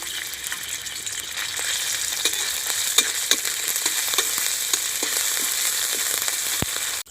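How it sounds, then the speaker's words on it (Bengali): Ginger paste hits hot oil in a kadai while potato chop snacks are being made. It gives a loud, even sizzle with scattered crackles and light stirring clicks. "এবার গরম তেলে আদা বাটা দিয়ে দিচ্ছি।"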